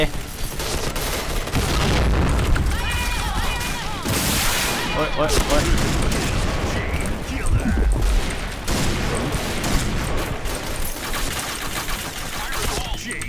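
Honey Badger light machine gun in Point Blank fires long, loud sustained bursts alongside other gunfire and in-game effects, with someone talking excitedly over the shooting.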